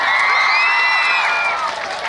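A large crowd at a jamboree closing ceremony claps and cheers loudly, with high whoops and shrill whistle-like shouts riding over steady applause for about two seconds.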